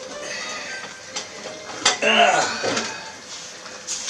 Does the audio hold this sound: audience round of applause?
no